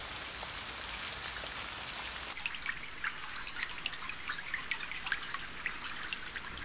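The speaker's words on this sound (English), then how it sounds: "The sound of the city is muffled by the rain." Steady rain falls through an animated film scene, a dense even hiss that picks up audible drips and spatters striking nearby surfaces partway through, with no voices.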